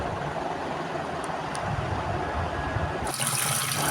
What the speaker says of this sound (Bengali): এবার বাঁধাকপিকে আমরা ভালো করে ধুয়ে নেব